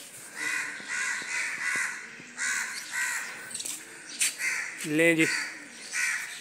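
Crows caw repeatedly in harsh, rasping calls from a tree where a kite is also perched. Someone talks throughout, and the loudest caw comes near the end.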